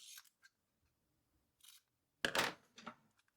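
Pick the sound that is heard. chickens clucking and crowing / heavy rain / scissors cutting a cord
scissors cutting a cord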